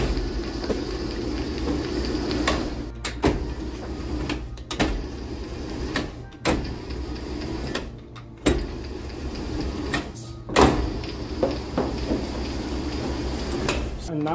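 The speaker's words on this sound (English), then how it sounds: "my dough on the laminator" A dough laminator rolls croissant dough with a steady mechanical rumble, punctuated by repeated clunks and knocks as the rollers are adjusted and the sheet passes through. A voice talks intermittently over the machine.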